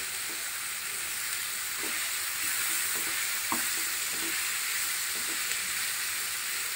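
Whole cumin and star anise fry in hot oil for chicken biryani, a steady close sizzle with faint clicks of stirring throughout, and no voices.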